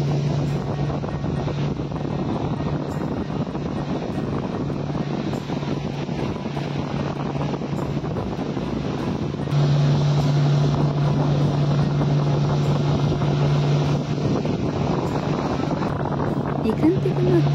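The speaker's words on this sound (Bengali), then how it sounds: "আমরা পুরো ড্যামটা ঘুরে দেখার জন্য স্পিডবোট বুক করেছি।" A speedboat ride on Patratu dam, with the motor droning loud and steady throughout, mixed with wind and water rush, the engine growing slightly louder midway.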